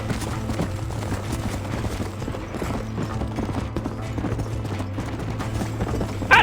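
Hooves clatter in a steady galloping rhythm from a team of horses in the Red Dead Redemption video game, layered with rolling wheels and mechanical clatter, with a brief sharp burst near the end.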